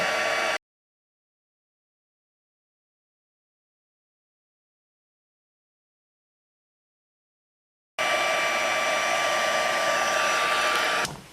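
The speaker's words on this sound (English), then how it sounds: "And we're just going to go ahead and heat set this." An embossing heat tool blows steadily to heat-set embossing powder on a butterfly card, a continuous whooshing hum at the start, then silence, then the same airflow returning close and loud.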